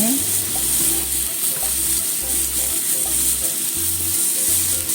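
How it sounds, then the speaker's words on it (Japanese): Eggplant stir-frying slowly in a pan until soft, for a sesame-flavored dish, giving a steady close sizzle that runs throughout alongside soft scraping stirs, with no talking. "ナスが柔くなるまで ゆっくり炒めます"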